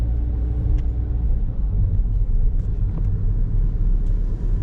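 A car drives through the downtown streets of Macau with a steady low engine and road rumble from inside the vehicle, and faint traffic noises come and go.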